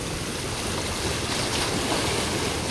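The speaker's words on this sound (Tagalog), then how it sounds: "Lakas na yung alon, no?" Typhoon-driven ocean waves rush and roar in a dense, continuous wash, loud and close, with no voices.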